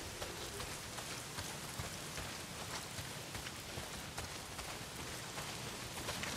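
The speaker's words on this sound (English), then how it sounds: "Well, not if it's pissing down rain." Heavy rain in Days Gone, a dense, continuous hiss of drops pattering on surfaces, steady and enveloping with no pauses.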